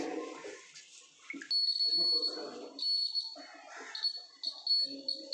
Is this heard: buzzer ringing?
yes